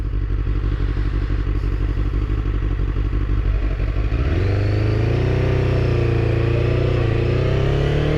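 A Suzuki Katana motorcycle engine rumbles loudly at close range, idling with a lumpy exhaust beat, then its pitch climbs and holds as it revs up.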